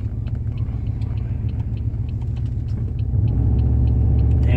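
A car with a faulty transmission driving along, a steady loud low rumble throughout that thickens and grows slightly louder partway through, with faint clicks above and no talking.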